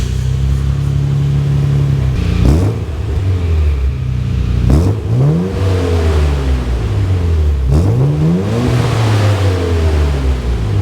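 A Nissan Skyline R34 GTR engine is running and being revved in loud repeated rises and falls, with several sharp throttle blips sweeping up and back down over a steady idle, close by.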